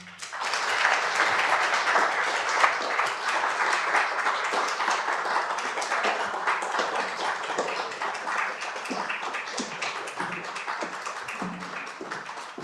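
A Westchester Historical Society audience applauds as guests walk onto the stage, a dense, sustained wash of many clapping hands that swells early, then slowly thins and tapers over about twelve seconds.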